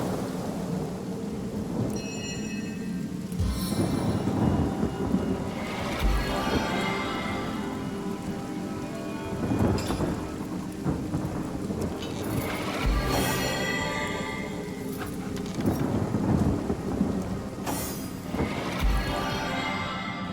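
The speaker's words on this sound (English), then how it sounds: "What a deluge!" Heavy rain pours steadily in the Divinity: Original Sin video game, broken by repeated rolling thunder cracks and rumbles across the storm, with no voices over it.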